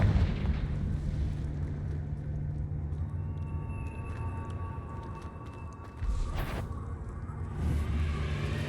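Fiery Confringo spell explosions in the Hogwarts Legacy video game, a steady low rumbling blast with bursts and a sharp crack near the six-second mark, loud and continuous with game music underneath.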